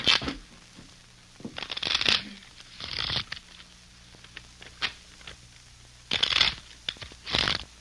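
A deck of playing cards is shuffled in bursts of crisp riffling and patter, fairly quiet and close, with pauses between the shuffles and faint tonal music underneath.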